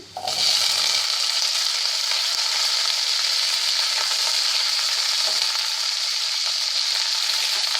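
Baby corn drops into a pan of frying garlic and sets off a loud, continuous hissing sizzle that holds steady throughout.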